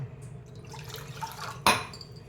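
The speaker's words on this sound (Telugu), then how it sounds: "కొంచెం నీళ్ళు పోసుకొని ఆ పెరుగు గిన్నెలో" Water is poured into a bowl of yogurt with a short, light splashing trickle, followed by a sharp clink, close up.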